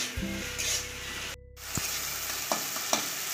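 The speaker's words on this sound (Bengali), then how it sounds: "একটু আদা রসুন বাটা দিয়ে আবার সব কিছুকে কিছুক্ষণ ধরে খুব ভালো করে কষিয়ে নিতে হবে।" Ginger-garlic paste and salt sauté in oil in a frying pan for a fish roe fritter curry, a close hissing sizzle with a few stirring clinks and a brief break in the sound.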